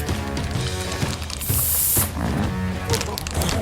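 Brief hiss of marker spray aimed at a grey seal pup on a beach at Blakeney Point, a short burst of about half a second over steady outdoor background noise.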